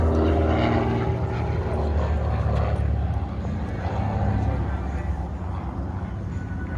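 An aerobatic propeller airplane flies an 8-point hesitation roll at an air show night performance, its engine a loud, continuous rumbling drone with slight swells, while an announcer talks over it.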